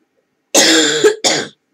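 A person coughs twice, close and loud, a longer harsh burst followed by a shorter one, with no other sound around it during a needle felting craft session.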